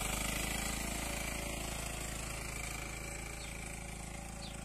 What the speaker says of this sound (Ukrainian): ТЗ-4К14 якийсь міні-трактор.